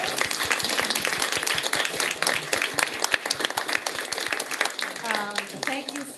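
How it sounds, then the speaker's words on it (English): A panel audience applauds teachers with brisk, dense clapping that carries on throughout, with a voice briefly audible near the end. "Can we give a round of applause to our teachers?"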